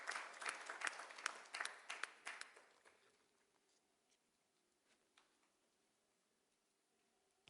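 An audience applauds a speaker at a UAE–India business fest: dense clapping for about three seconds, then it thins into a few scattered claps and a quiet hall.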